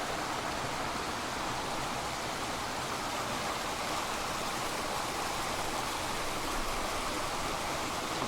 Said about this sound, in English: you can certainly hear the water here as we move along the path